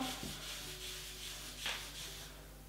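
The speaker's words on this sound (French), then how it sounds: "On va mettre la brosse, si on n'appuie pas ça marche pas." A handheld hair removal brush device pressed and rubbed against skin, giving a soft, faint abrasive scrubbing that runs continuously in gentle strokes, close up with no talking.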